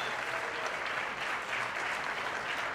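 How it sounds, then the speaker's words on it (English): Dense, continuous applause fills a symposium hall after student performances, a steady even roar of many hands with no pauses. "Let's give another round of applause for all of our student performances"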